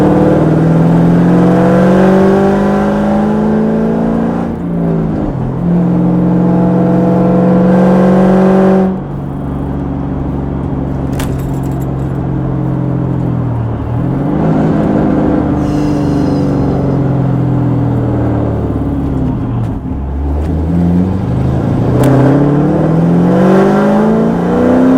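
A 2006 Ford Mustang GT with its V8 engine revs repeatedly, loud and close, rising and falling through several throttle blips with brief drops between pulls.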